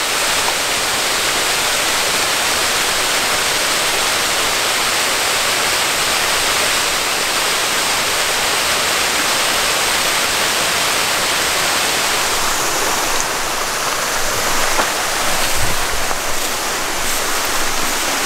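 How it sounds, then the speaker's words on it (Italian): A waterfall on a mountain stream in the Simbruini Mountains roars as a steady, loud, unbroken rush of falling water, close by and alone with no voices. "Sono arrivato alle cascate,"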